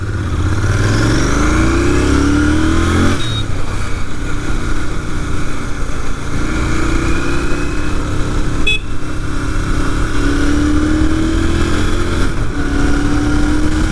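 A Royal Enfield Continental GT650 twin-cylinder motorcycle accelerates hard in first gear, its engine note climbing steadily and loud with a brief dip around a shift, heard up close from the rider with wind noise.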